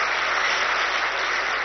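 Audience applause at a Brahma Kumaris spiritual gathering, a steady, dense wash of many hands clapping that holds at the same loud level for the full stretch, with no voices over it.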